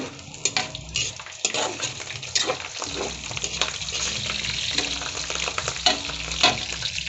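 Garlic frying in bubbling hot oil for a bagoong dish, a steady crackling sizzle with occasional stirring scrapes and utensil clinks, close and continuous with no talking.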